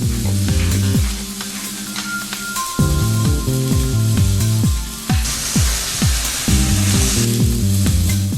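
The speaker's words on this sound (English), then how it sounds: "When the meat has been well browned on both sides, season it to taste with pepper and salt from the grinder." Pork sirloin browning in a Durotherm pan gives a steady loud sizzle with frying crackle throughout, punctuated by repeated tonal scraping or stirring sounds.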